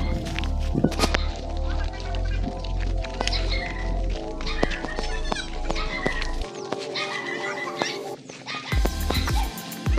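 A dog barks and yips amid a busy, cluttered background with steady low hum; several short sharp calls scattered across the scene.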